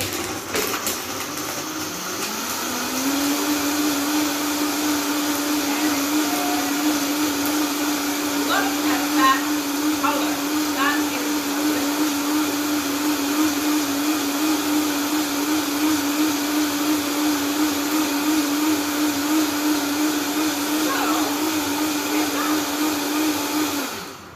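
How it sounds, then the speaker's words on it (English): A blender making a smoothie with chips starts up, ramps to a steady high whine and runs loud and constant for about twenty seconds, with faint rattling from the contents, before it cuts off. "You can hear the chips blending in there, right?"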